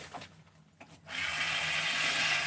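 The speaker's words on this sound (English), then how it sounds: "gotta break out the Dremel tool for something" A Dremel rotary tool smooths a part during a Solo 665 chainsaw build. Some quiet handling comes first, then after about a second a loud, steady high-pitched grinding whine holds to the end.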